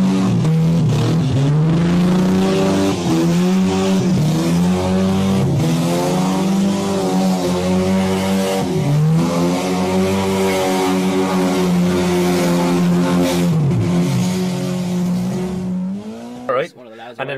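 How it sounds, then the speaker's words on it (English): A car engine roars continuously near and loud, revving up and down in repeated surges with rising and falling pitch, then cuts off abruptly near the end; voices can be heard faintly under the engine noise. "And then that's just engine start there."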